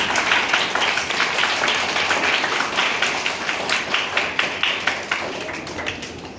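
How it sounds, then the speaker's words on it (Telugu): A crowd of people applauding the parents, a steady dense wash of many hands clapping that holds for several seconds, fairly close and full, with no talk over it and a slight fade toward the end. "అందరూ పేరెంట్స్కి చప్పట్లు కొట్టండి ప్లీజ్"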